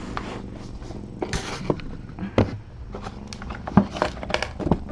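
A tiny kitten purrs in a low, continuous rumble close by, broken by scattered soft clicks and bumps of movement, with no voices.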